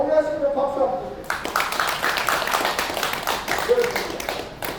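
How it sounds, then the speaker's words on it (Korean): Audience clapping at a public car-parade rally in Busan breaks out about a second in, a dense burst of many hands that continues steadily to the end, mixed with crowd voices. "그 뜻에 동의하시면 박수 한번 주세요."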